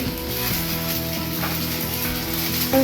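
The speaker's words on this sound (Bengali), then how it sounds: "ওটাকে আবার ঘি দিয়ে ভাজা হচ্ছে" Gorgora pitha, a traditional Utkal rice cake, fries in ghee with a soft, steady sizzle, faint and continuous throughout.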